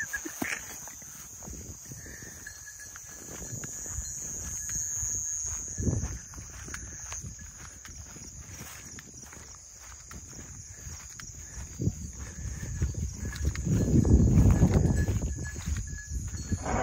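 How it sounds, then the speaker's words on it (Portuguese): Horse hooves clip-clop at an uneven pace against a steady background hum and some louder rustling noise. The hoofbeats are moderately distant, and no one talks. "O cavalo."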